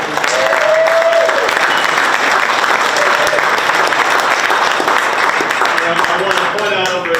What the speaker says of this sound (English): I actually want another round of applause for all the Weingart staff.